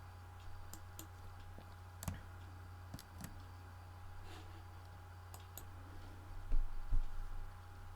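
A computer mouse clicks a handful of times, sharp isolated ticks scattered irregularly over a quiet background hum.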